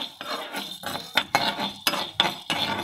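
Chana dal roasting in a kadai is stirred with a metal spoon, producing a rhythmic run of sharp scrapes and clinks against the pan, several strokes in quick succession over a dry rustle.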